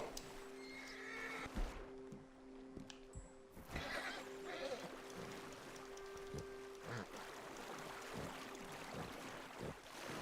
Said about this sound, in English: Right, my horse is drowning.